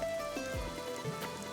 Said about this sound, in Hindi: जस्ट लुक एट दिस बारिश।